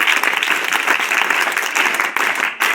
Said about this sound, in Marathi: जोरदार 3 टाळ्या वाजवा.